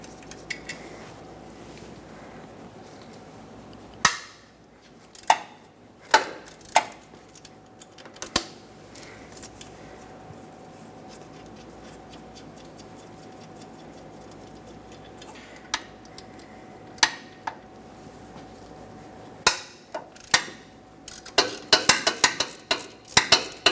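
Wrench work on 14 mm engine mount nuts of a 1995-2004 Toyota Tacoma 2.4L four-cylinder: a series of sharp metallic clicks and cracks as the nuts break free, sparse at first and then a rapid cluster near the end, over a quiet background.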